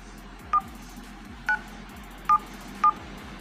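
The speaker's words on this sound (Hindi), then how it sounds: "अपने खाते के आखिरी चार अंक डायल करें" Four telephone keypad DTMF tones, spaced unevenly, as account digits are dialed on a bank balance phone line, each a short clear beep over a faint steady hum.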